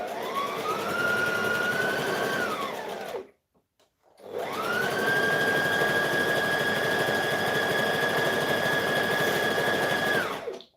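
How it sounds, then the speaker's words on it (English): An overlocker runs a chain stitch in two steady, loud bursts of whirring motor hum, stopping for about a second before starting again and running evenly to the end. "I'm just going to grab this one and push it up and chain stitch it"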